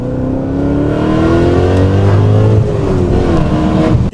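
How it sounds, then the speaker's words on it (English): A BMW E39 M5 engine revs loudly on a downshift, a close, continuous growl whose pitch climbs and then settles, heard alone without talk. "Do you hear that downshift?"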